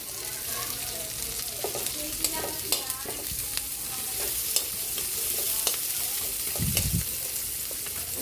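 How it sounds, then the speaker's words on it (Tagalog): Garlic and onion sauté in a pan for pork caldereta, giving a continuous close sizzle of frying with scattered scraping stir sounds throughout. "Magigisa na po tayo para sa ating pork caldereta butter. Sabay na natin yung bawang. Lagyan na natin yung buyas."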